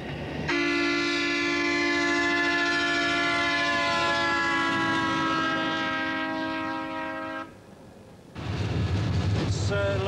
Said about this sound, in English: Hugh and Adrian leave Atborough for Khartoum in a rail car called Sid